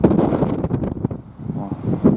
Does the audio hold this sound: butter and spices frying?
no